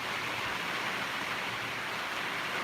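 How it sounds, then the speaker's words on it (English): Steady hiss of rain falling, a constant broadband wash with no breaks, fairly close and uniform in loudness. "You like the sound of rain, Miss Steve?"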